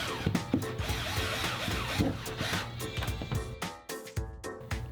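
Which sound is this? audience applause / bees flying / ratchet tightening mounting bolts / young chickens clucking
ratchet tightening mounting bolts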